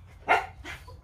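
A dog barks twice close by, a sharp loud bark followed a moment later by a softer second one, over a low steady background hum.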